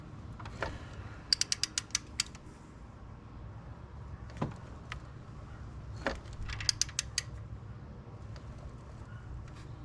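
Rapid clicking of a socket ratchet turning the crankshaft of a 2008 Ford Edge Duratec engine, in two short bursts of quick clicks with a couple of single clunks between, against a low background hum and faint bird calls.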